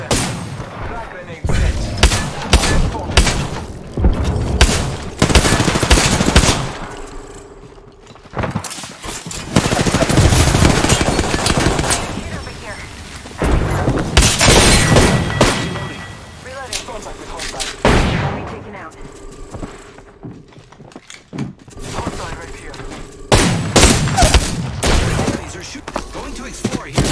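Heavy bursts of rapid gunfire and booming frag grenade blasts in a shooter game come in loud waves separated by brief lulls, while someone talks between them.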